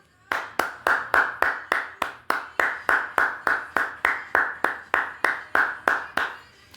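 A single person claps steadily, about twenty sharp, evenly spaced claps at a brisk, regular pace, close and loud, with no talking.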